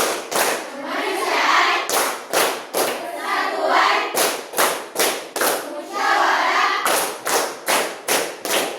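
Students in a vocational high school classroom perform a rhythmic group clapping routine, loud, close bursts of claps in a patterned beat broken by short pauses, with no talking over it.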